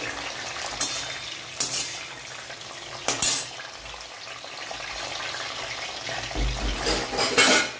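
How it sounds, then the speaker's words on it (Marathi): Green chillies, onion and tomato frying lightly in oil for pav bhaji, giving a steady sizzle with occasional scrapes and clinks of a spoon against the pan, growing louder toward the end. "आपल्याला मिरची कांदा आणि टमॅटो असे थोडेसे फ्राय करून घ्यायचे तेलामध्ये"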